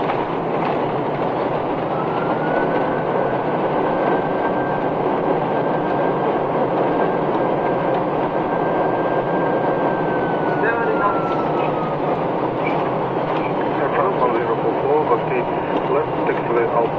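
An Airbus A330-300 airliner rolls out after landing in Moscow, heard from inside the cabin as a loud, steady broadband roar with a long sustained whine, continuous for the whole stretch with faint rumbling underneath.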